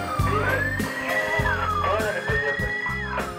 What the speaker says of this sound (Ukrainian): Швидка допомога.